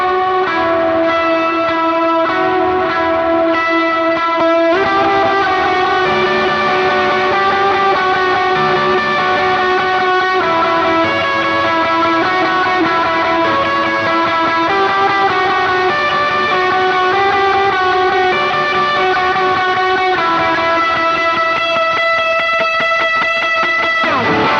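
Electric guitar played through a worship-style pedalboard, sustained chords and notes washed in delay, modulation and light overdrive, ringing continuously and up close with no talking.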